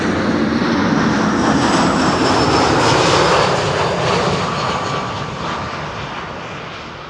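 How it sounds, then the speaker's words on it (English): An EasyJet Airbus A319 arriving at Amsterdam Schiphol from Prague roars past close by, a loud broadband jet rush that holds strong before gradually easing off, heard alone without speech. "This is EasyJet flight 27926 arriving from Prague in the Czech Republic. It's an A319."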